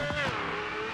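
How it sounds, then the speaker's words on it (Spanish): In the game BeamNG, the engine of a Pagani Sonda 5 revs. The note rises sharply, then holds a high, steady whine for about a second, with no voices. "Pagani Sonda 5, escuchándome ese motor."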